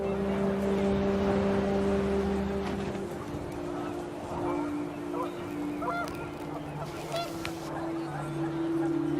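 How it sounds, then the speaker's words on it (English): Panicked geese honking in the video game What Remains of Edith Finch, a flurry of nasal calls over steady wind and ambient drone, fairly close and continuous for several seconds. "The wind picked up, and panicked geese appeared and quickly went."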